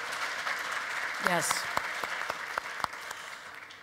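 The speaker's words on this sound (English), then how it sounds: "Everybody, please, a round of applause for just an incredible woman." An audience claps for Tawakkol Karman at a conference session on the end of the war, a moderate round of applause with a few sharp individual claps, and a voice briefly speaks over it.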